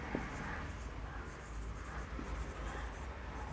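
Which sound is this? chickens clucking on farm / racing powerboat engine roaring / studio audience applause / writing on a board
writing on a board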